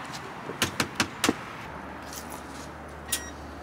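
Knocking on a locked door at a car facility, four quick sharp raps close by, then a fainter tap a couple of seconds later over quiet background hum.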